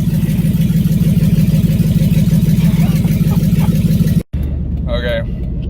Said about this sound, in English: Okay, pulling onto the highway. God, this thing is ridiculously loud right now.